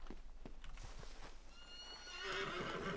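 Horse in Red Dead, hooves clip-clopping at close range, then a loud whinnying neigh rising near the end, with only faint game ambience beneath.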